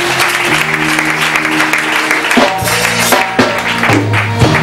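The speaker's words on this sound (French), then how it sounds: "Est-ce qu'on peut acclamer le Seigneur?" A church congregation applauds and cheers to praise the Lord, steady loud clapping throughout with sustained keyboard tones underneath.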